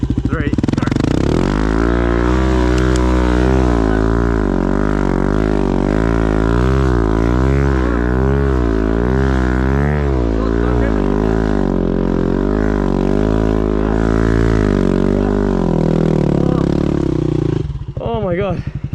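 Motorcycle engine revving steadily while riding through soft Simpson Desert sand in the Australian outback, a continuous loud wavering drone for about seventeen seconds that drops away near the end, with voices over it.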